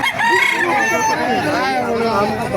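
A rooster crows loudly and up close, one long drawn-out call, at an early-morning Friday chicken market in Bocaue, Bulacan, with faint voices and clucking in the background.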